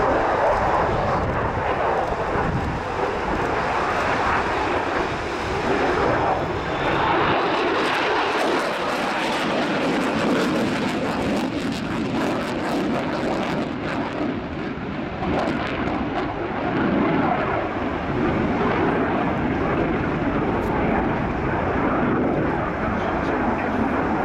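A Boeing F/A-18 Super Hornet with General Electric engines derived from the F404 flies at the RIAT 2010 airshow, its loud jet roar rolling on for the full stretch and swelling and shifting as it passes.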